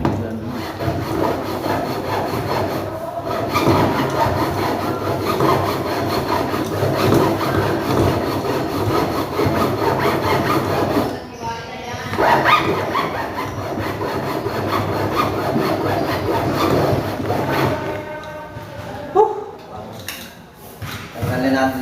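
Steady back-and-forth rasping of a hand saw cutting, continuing for most of the clip with a short pause midway, with voices talking nearby, while a drum is made into a trash bin.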